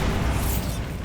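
A Bombarda spell explosion in Hogwarts Legacy comes as one loud, broad, roaring blast that holds steady and then slowly fades over about a second, with no talk.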